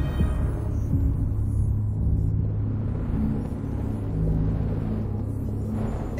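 A storm rumbles in the video game Detroit: Become Human, a steady, low, continuous roar that runs the whole way with no break and no talking over it.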